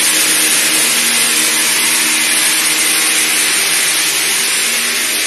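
A rock drill bores into stone at the head of a large shaft deep in a cave, a loud, unbroken grinding whir that stays close and steady throughout with no pauses.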